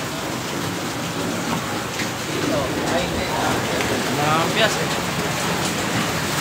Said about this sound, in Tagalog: Grabe ulan, no?